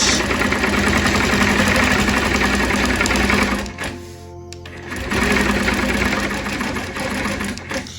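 A sewing machine quilting a lotus flower wholecloth quilt, stitching in the ditch, runs in a fast, steady, close-up whir, stops briefly, then starts up again at the same even pace.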